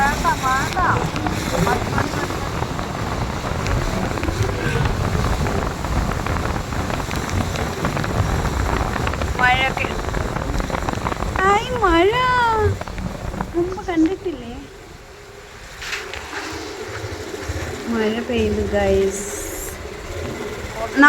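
Heavy rain drums steadily on a vehicle during a road trip along a narrow pocket road in Kerala, a loud continuous hiss that briefly eases and then returns, with people talking over it.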